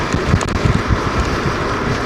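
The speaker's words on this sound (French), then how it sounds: "il y a un peu de vent" Wind buffeting the microphone while riding a Dualtron Victor electric scooter across exposed plains, a rough low rumble with irregular gusty bursts, continuous and fairly loud.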